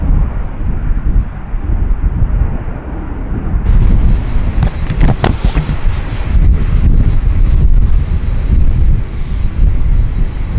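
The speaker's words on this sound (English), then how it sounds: "Our second A330neo operator here, Air Calin, coming in from Noumea" An Air Calin Airbus A330neo airliner arriving at Sydney Airport gives a loud, steady engine roar close by, with wind buffeting the microphone throughout.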